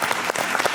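Audience applause at a comedy team's show, dense clapping throughout the short burst with brief swells, no voices.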